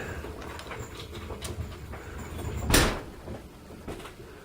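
A rolling jack bumps into a garage door from the inside, giving a single sharp bang with a short rattle against a noisy workshop background.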